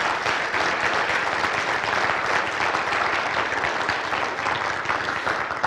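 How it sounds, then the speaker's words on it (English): A crowd at a college agribusiness signing day ceremony on the North Mankato campus applauds students, a dense, steady roar of many hands clapping at even volume throughout. "please join me in applauding the next generation of agribusiness professionals"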